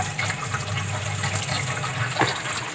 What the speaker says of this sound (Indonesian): dan air yang menembak kencang ya, sampai dia ke atas tembakannya